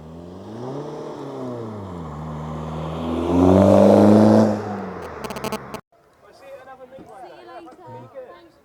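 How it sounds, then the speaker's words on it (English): A Skoda drives past at a car meet in the New Forest, its engine note rising and falling in pitch as it nears, peaking loudly in a brief roar before cutting off, with people chatting nearby afterward. "We will get a Skoda flyby."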